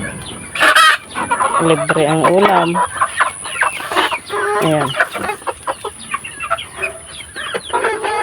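Several chickens cluck and squawk close by in irregular bursts, one drawn-out call standing out, with a person briefly speaking.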